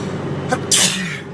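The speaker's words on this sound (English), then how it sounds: "and me sneezing apparently." A single short sneeze bursts out close by, a quick breathy blast lasting under a second against a steady background hum.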